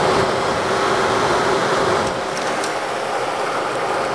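A modded Xbox 360 cooling fan runs at 12 volts, producing a loud, steady broadband whoosh of air with a faint tonal hum. The level eases slightly partway through and stays constant, and no one speaks.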